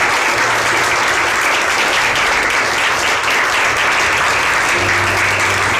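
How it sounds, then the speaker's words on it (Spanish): A church congregation applauds loudly and continuously, dense clapping filling the space without any break and with no speech heard. "denle un aplauso a nuestro Dios fuerte"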